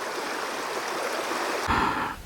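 Fast-flowing river water in the Kyrgyzstan hills rushes in a steady, loud hiss, then a closer splash and churn near the end.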